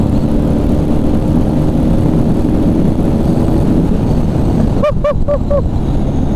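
A barn-find Triumph T140 motorcycle rides along with its engine droning as a loud, steady rumble buried in heavy wind buffeting, and a short burst of rising tonal chirps breaks through near the end.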